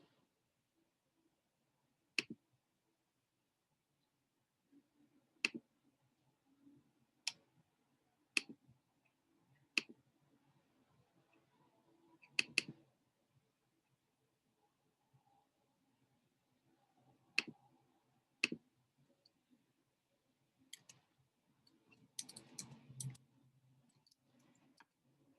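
Sharp, isolated computer mouse clicks, roughly ten of them spaced a few seconds apart, while navigating an online teacher resource site, with a brief cluster of faster clicks near the end and no talking.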